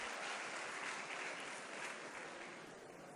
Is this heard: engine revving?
no